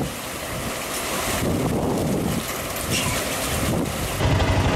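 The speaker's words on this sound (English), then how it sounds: "I know it's a bit windy out here" Steady gusting wind buffets the microphone on a riverbank at Chitina, Alaska, a broad continuous roar that rises and falls with each gust, heard alone without talk.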